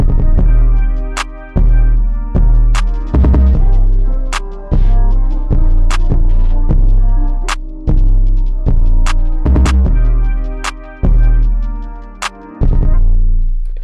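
A hi-hat sample shaped with added attack in the Thenatan Hatz VST plugin repeats as a steady throbbing pattern of about a dozen loud, punchy hits with a low booming body and brief bright tops, with no voices.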